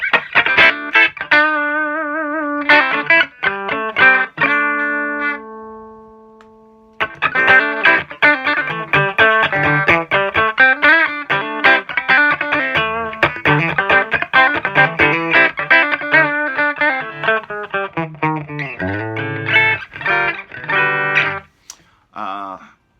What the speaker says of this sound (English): Let's check out the reverb. I believe it's a digital reverb.